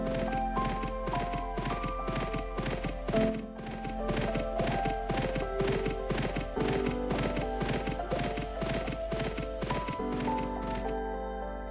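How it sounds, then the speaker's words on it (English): Rhythmic hoofbeats of a galloping horse in Second Life run steadily throughout, layered over a dense, continuous game soundtrack with a low steady hum. "I keep hearing something that sounded like a horse galloping or running."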